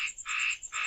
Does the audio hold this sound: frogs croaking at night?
yes